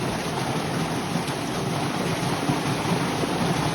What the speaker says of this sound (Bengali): পাহাড় ফেটে মনে হয় পানি বেরিয়েছে